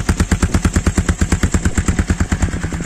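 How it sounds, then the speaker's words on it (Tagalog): A Gamma 200 motorcycle fitted with a Yoshimura muffler idles close by, a loud, steady string of rapid, evenly spaced exhaust thumps and pops with no talking. "So ayan siya mga sir pagka naka-idle. Yan yung tunog na pagka naka-idle."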